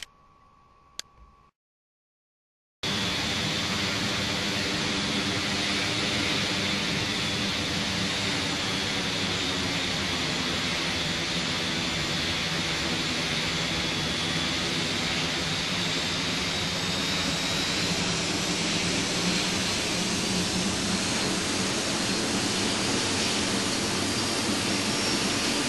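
Steady loud roar of a jet aircraft engine in a flight simulator game, a continuous rushing whine that starts abruptly after a brief quiet stretch and holds unchanged, no talk.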